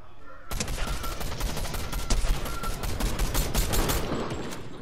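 Dense, continuous gunfire from players battling in Fortnite rattles in rapid overlapping shots, loud and close, with no speech over it.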